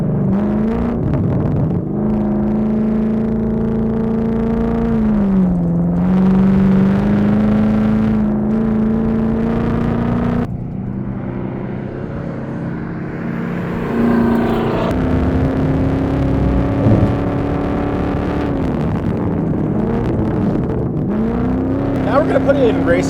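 A supercharged LT4 Camaro ZL1 1LE with a loud exhaust is driven hard through a canyon, its engine roaring and rising and falling in pitch through repeated gear changes, briefly easing off midway before pulling hard again.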